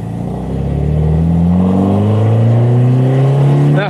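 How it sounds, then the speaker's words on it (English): Small Healey by Caton car started and pulled away, its engine note climbing steadily through a continuous close, loud acceleration, with a short clatter at the end. "So let's get in the car, fire it up, and go for a bit of a drive."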